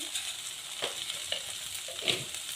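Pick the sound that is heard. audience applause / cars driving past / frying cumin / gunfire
frying cumin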